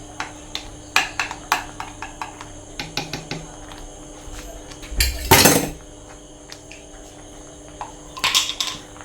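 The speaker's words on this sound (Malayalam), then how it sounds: "നെയ്യും ഇട്ട് നല്ലോണം മിക്സ് ചെയ്യാം" Spoon scraping and clinking against a pan while jackfruit varatti is stirred with ghee, a series of sharp metallic taps and scrapes at irregular intervals with one longer rasping stir in the middle.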